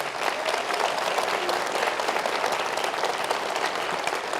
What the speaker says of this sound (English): do me one quick favor and give them a round of applause